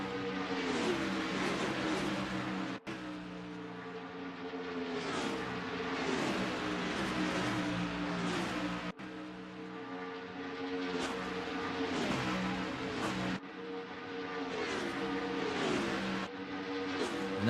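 Twenty stock cars roar around the Michigan oval in a racing game, a continuous layered engine drone with repeated swells as cars pass, cut by a few brief breaks, with no speech over it.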